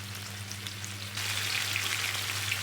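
Sticky chicken pieces frying in a pan over medium heat; a soft sizzle crackles nearby, then grows noticeably louder and denser partway through, with a low steady hum underneath.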